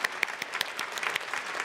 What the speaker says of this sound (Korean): 큰 박수로 축복해 주겠습니다